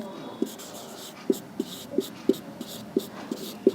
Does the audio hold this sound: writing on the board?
yes